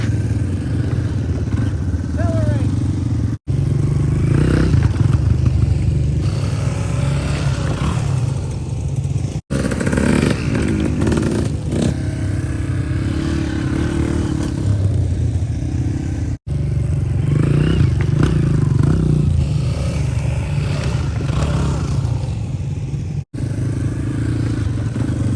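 Dirt bike engine at a beginner's riding class, droning loudly and steadily with throttle surges and brief dips to silence, with faint talk underneath.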